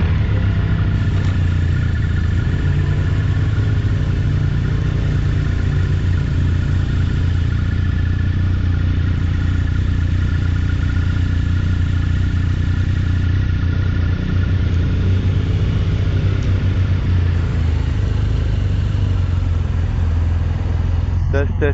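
A BMW R1250RS motorcycle on a test ride gives a steady, loud low engine drone with wind rush that holds for the whole stretch, with slight shifts in pitch and no clear voices.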